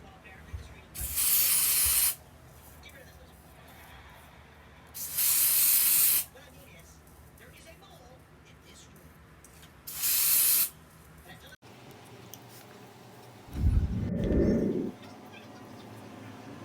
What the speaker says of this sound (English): I'm spraying stuff on here.